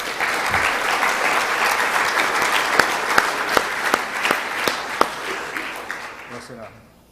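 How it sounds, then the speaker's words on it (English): A crowd at a football banquet gives sustained applause, a dense clapping wash with a few louder individual claps punctuating it, tapering off toward the end. "give these guys a round of applause"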